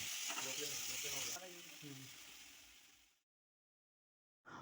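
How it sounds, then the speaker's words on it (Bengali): Chicken frying in hot oil while making chicken chowmein gives a loud, steady broadband sizzle for about three seconds, then cuts to silence before the sizzle briefly returns. "দেখো 10 মিনিট পর চিকেনগুলো গরম তেলের মধ্যে ভালো করে ফ্রাই করে নিতে হবে।"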